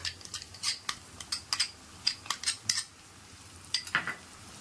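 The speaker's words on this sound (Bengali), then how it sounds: "তার মধ্যে দিয়ে দিচ্ছি হাফ চামচ হলুদ, ধনে আর জিরে গুঁড়ো, এগুলো সব মিশিয়ে আমি এর মধ্যে দিয়ে দেব।" A spoon stirs turmeric, coriander and cumin powder into yogurt in a bowl, making quick, repeated clinks and scrapes in a brisk rhythm, close and fairly quiet.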